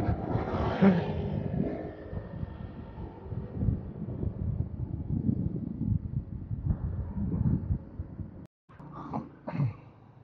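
Wind noise buffeting the microphone during a motorcycle ride on the roads of Mindoro, a steady low roar with engine rumble that drops out briefly near the end before gusting back.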